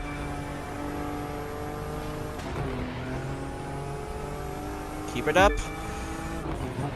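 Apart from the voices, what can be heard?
high-performance roadster driving downhill in The Crew 2 video game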